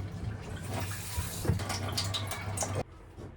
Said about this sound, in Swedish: Så vi öppnar kranen, vi testar.